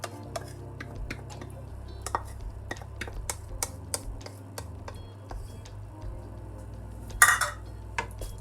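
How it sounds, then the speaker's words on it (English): Yogurt being stirred into chicken curry in a pot, with scattered spoon scrapes and clinks against the metal at irregular intervals and one louder clatter near the end, all fairly quiet. "Mix the yogurt nicely through"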